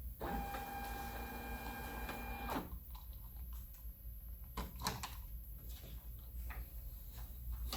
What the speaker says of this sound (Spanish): Se está imprimiendo en este momento nuestros resultados.